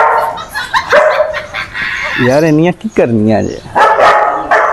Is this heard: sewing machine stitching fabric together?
no